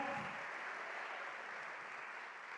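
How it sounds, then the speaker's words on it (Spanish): An audience at an early-morning motivational event in Puerto Rico applauds, a dense, steady wash of clapping that holds at an even level and fades slightly toward the end. "Un aplauso más fuerte, por favor, que es muy temprano."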